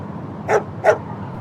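Two quick, sharp dog barks ring out close together, fairly near and loud, over a low, steady background hum.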